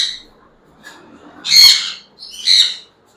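A breeding pair of Jandaya conures in a pet bird shop gives two loud, harsh screeching bursts close by, with softer chirps between them.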